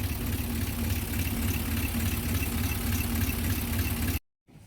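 Diesel engine of a surplus Japanese Isuzu CXZ manual dump truck idling steadily nearby, a dense rumbling drone that cuts off abruptly near the end.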